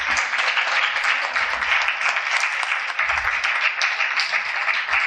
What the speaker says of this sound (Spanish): Vamos a darle un aplauso a Steffi.